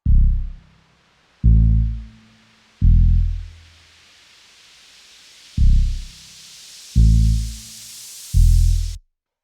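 Deep bass stabs in a jungle drum and bass track, six heavy sustained hits spaced unevenly and decaying quickly, loud and alone under a slowly rising hiss.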